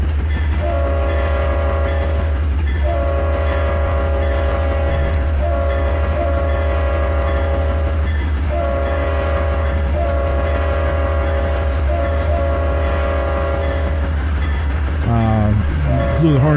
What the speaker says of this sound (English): Blew the horn too early.